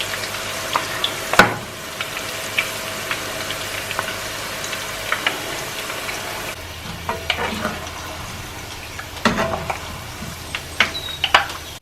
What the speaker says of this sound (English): Cook the onions over high heat and make sure it's crispy and golden color.